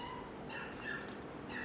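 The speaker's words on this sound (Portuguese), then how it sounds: "Acho que começou uma briga de cachorro aqui na rua" Dogs fighting out in the street sound faint and distant, thin yelps and whimpers rising now and then over a steady background hum, with no talk.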